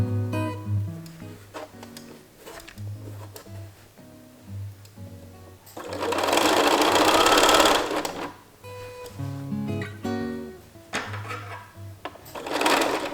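A sewing machine stitches the side seam of a dress in bursts: short runs at first, then a loud sustained whirring stretch of about two seconds, followed by more short bursts, with no talking.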